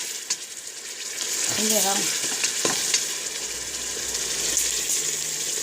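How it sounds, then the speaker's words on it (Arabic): Chicken frying with a large onion for douida in white sauce, a steady loud sizzle with stirring scrapes and a short spoken remark partway through. "كي تقلى لي الدجاج نزيد بصله كبيره هكذا"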